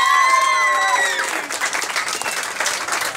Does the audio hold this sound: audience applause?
yes